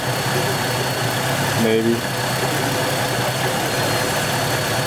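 A GM car engine with a variable valve timing fault idles steadily and close by, a constant low hum running throughout. A voice briefly speaks near the middle.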